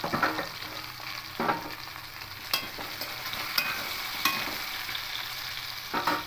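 Vegetables for a Malabar spinach chorchori fry in a pan with a steady, soft sizzle, broken by sharp scrapes and clicks as a spatula stirs them now and then; no one speaks.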